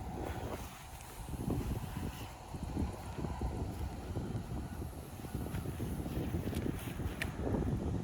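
Outdoor wind roars steadily over a disc golf throwing field, a loud, continuous broadband rush with gusty swells and buffeting against the microphone, with no talking.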